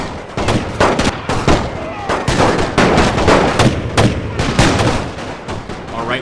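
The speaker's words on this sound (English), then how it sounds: "Danger close with the artillery fire." Artillery and small-arms gunfire in Napoleon Total War with the Great War mod: dense, continuous volleys of sharp cracks and booming blasts, loud and close, with rapid bursts overlapping throughout and muffled talk mixed underneath.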